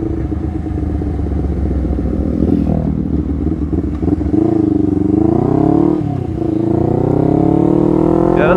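A Honda CBR250RR motorcycle accelerating at speed on a ride, its high-revving engine loud and close with rising pitch sweeps as it climbs through the gears.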